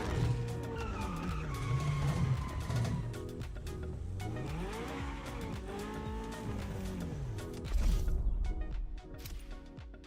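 Racing cars in The Crew Motorfest game roar with engines rising and falling through gear changes, tires squealing and skidding throughout, loud and continuous with no talk.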